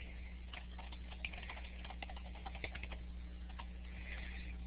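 A title is typed on a computer keyboard, with steady, quiet, close keystrokes clicking in an irregular run over a constant low hum, and no talking.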